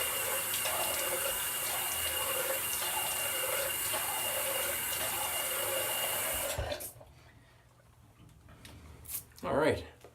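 Tap water runs steadily to wet a face before a budget shave, a continuous close splashing rush that cuts off abruptly, leaving near quiet before a brief louder rustle at the end.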